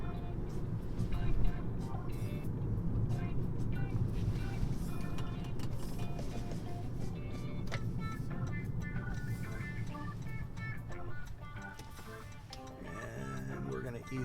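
Soft, steady hum and road rumble inside a 2016 Toyota Prius Hybrid cruising along at highway pace, with someone talking over it throughout.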